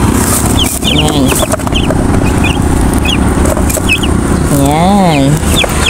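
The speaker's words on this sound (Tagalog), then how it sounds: "So, ang ating sisiw po ay 3." Three young chicks peep in short high chirps, brought home as a gift, over steady background noise and a voice talking nearby.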